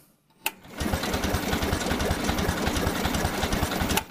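A Cub Cadet Lo Boy 154 garden tractor engine cranks on the starter without firing, a close, steady, rapid chugging that starts after a click and runs for about three seconds.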